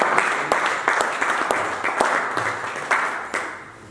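Church congregation clapping and applauding the Lord, a dense burst of hand claps with sharper accented hits every half second or so, close and lively.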